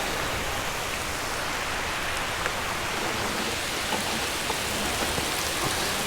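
Heavy rain from a storm pours down steadily during an E300 scooter ride at Lake of the Isles, a dense, loud hiss of drops with no break and no voices.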